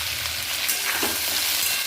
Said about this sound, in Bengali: তারপর সমস্ত কাঁকরোলগুলো তেলে ছেড়ে দিচ্ছি।